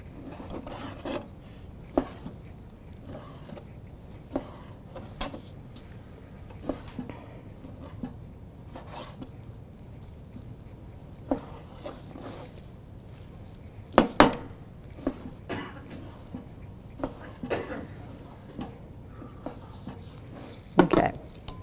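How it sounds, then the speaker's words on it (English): A kitchen knife slices beef against the grain into strips, giving soft irregular taps and scrapes on a cutting board, faint and close, scattered across the stretch with a few sharper knocks. "I'm cutting this beef against the grain so it makes for nice strips."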